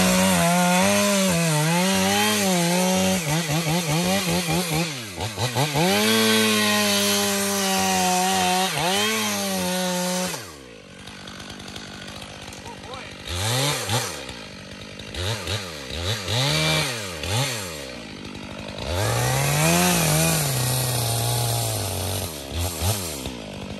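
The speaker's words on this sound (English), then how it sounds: "Do you think that you could cut a notch, like a really deep notch, in this stump?" A chainsaw cutting a deep notch into a punky stump is loud and close, revving and bogging through long cuts, then dropping to idle between shorter bursts of cutting.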